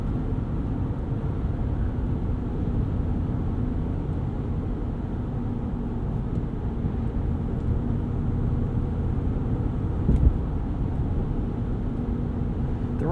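A 2019 RAM 1500 Rebel pickup cruising at 60 mph fills the cabin with a steady low tire drone and road rumble, constant and unbroken, with no voices.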